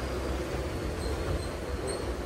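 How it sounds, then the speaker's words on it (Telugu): A MEMU passenger train slows on the line near Rajahmundry, giving a continuous close rumble of wheels on rails with a faint high squeal above, steady and unbroken throughout. "ఆగింది బండి."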